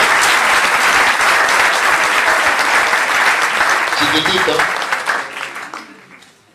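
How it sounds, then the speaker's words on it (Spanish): Loud, sustained audience applause at a political event in Bariloche, steady and dense for about five seconds before fading, with a voice briefly heard near the end. "un aplauso para la compañera"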